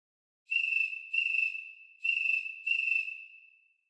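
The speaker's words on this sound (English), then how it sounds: "And the slow Grand Canyon cricket." A slow cricket chirp from a cricket toy iPhone app, set to a cold Grand Canyon cricket: four clear, shrill electronic chirps in evenly spaced pairs, alone against silence.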